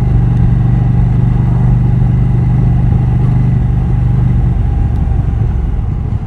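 A KTM 790 Duke's 798cc parallel-twin engine runs loud and close, holding a steady, throbbing mid-range drone for the whole stretch with no voices over it.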